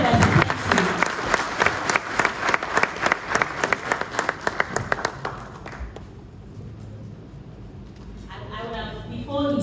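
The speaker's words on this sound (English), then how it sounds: "Let's put our hands together" An audience at a morning gathering breaks into sustained applause, a dense crowd of clapping with a steady beat. The clapping fades toward the end as voices carry on over it.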